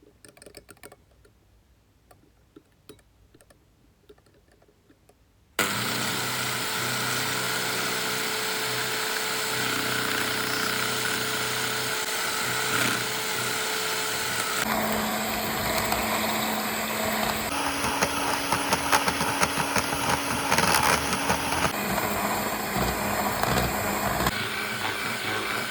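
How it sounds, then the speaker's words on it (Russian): An electric mixer whisks glaze at high speed, its steady motor whine starting abruptly after a quiet stretch of faint clatter, then running loud and continuous with slight shifts in pitch as the beaters move. "Затем нам нужно взбить миксером на высокой скорости в пышную, белоснежную,"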